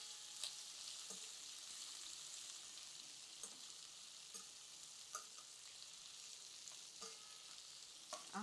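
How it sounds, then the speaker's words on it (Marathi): Sliced onion sautéing in a pan while making Udupi-style sambar, a steady soft frying sizzle with occasional clicks of stirring, close and alone without talk. "आता यामध्ये हा उभा चिरलेला कांदा घालूया आणि कांदा हलकासा परतून घ्यायचा"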